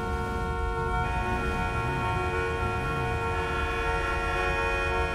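Car horns honk in a video game, a loud, sustained chorus of overlapping horn tones blaring steadily and densely, with no one speaking.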